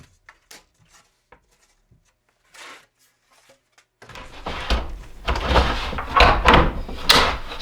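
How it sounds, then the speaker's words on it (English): A homemade fold-up wooden tool storage cabinet for a lathe being swung up against a workshop wall, starting with a few faint clicks and taps, then a louder stretch of wooden knocking, scraping and thumps as it folds closed. "Fold it up into the wall."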